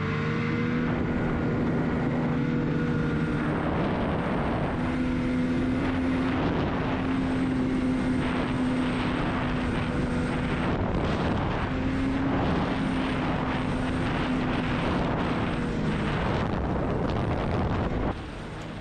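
Snowmobile engine running in extreme cold around -30°F in Alaska, a loud continuous droning hum with wavering pitch that sags as the machine loses power, with no talking.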